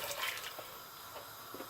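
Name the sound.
water poured over soaked chana dal in a pan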